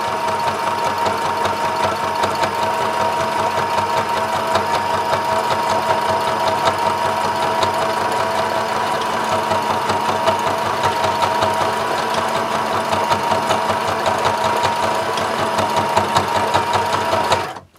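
A sewing machine stitches a small pocket onto a larger tote bag pocket at close range, a loud, fast, even whirring rattle that runs without a break and stops abruptly at the end.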